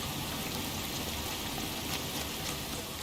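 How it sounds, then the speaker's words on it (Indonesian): Steady, dense rain falls in the video game LA Noire, an even broadband hiss with a pattering texture that fills the whole stretch with no talk over it. "Anjas hujan."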